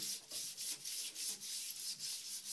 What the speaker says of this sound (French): nous allons prendre une brosse à toilette et frotter comme ceci dans les toilettes sur le gel